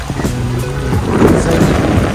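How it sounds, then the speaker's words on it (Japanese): Strong seaside wind buffeting outdoors, a loud continuous roar with heavy rumbling low-end gusts close to the microphone, no talk heard. "海沿いに来てるんですけど、だいぶ風が強いですね。"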